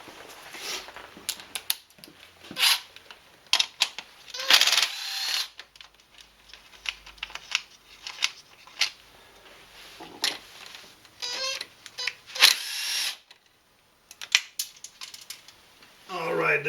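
A 10mm socket on a ratchet works bolts loose on the Mercedes-Benz W202 C280 M104 engine during head gasket teardown. Close, intermittent bursts of quick clicking and metallic clacks come with pauses and occasional talking.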